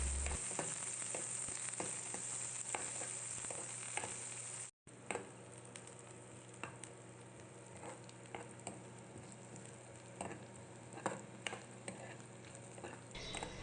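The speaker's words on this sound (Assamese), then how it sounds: "পিঁয়াজখিনি অকণমান ৰঙচুৱা পৰালৈকে ভাজিম।" Onions sizzle in a pan of oil with a constant crackle, punctuated by frequent scraping clicks of a spoon stirring, close and fairly quiet.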